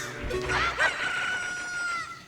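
A rooster crows once in The Legend of Zelda: Ocarina of Time, marking daybreak, a rising, drawn-out call with a slightly synthetic quality, fairly close and alone.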